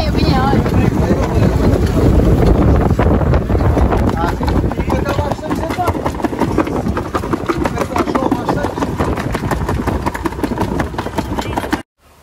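Strong wind buffeting the microphone aboard a boat at sea on a dolphin-watching trip off Portugal, a loud, continuous roaring rumble with gusty swells that cuts off abruptly at the end.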